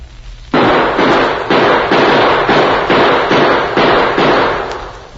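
Gunshots ring out in a 1943 Sgt. Preston of the Yukon radio drama shootout, a rapid string of about eight loud, sharp cracks fired in quick succession, each trailing briefly.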